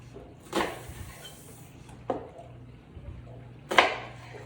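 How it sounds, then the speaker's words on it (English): A knife cuts through an onion on a board while quartering it, three separate dull chops spaced about a second and a half apart, close and moderately loud over a faint background hum. "the first thing you have to do is quarter the onion"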